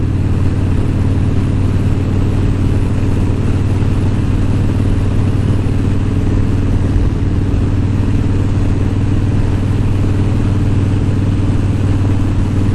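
A motorcycle engine runs steadily near at hand, a deep, even idle hum that holds without a break and with no talk over it.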